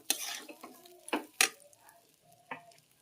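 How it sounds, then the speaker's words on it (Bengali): Pulao rice being stirred in a pan with a metal spoon, giving short scraping strokes and light clinks at an uneven pace, close by and fairly quiet. "পোলাওয়ের চালটা দিয়ে দিলাম, একটু নাড়াচাড়া করে নেব।"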